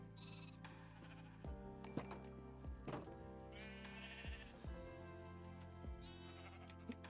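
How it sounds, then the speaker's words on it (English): Several sheep bleats from Minecraft farm animals in a basic barn, repeated at irregular intervals over steady background music, fairly close and clear. "We've got some sheep in our very basic looking barn."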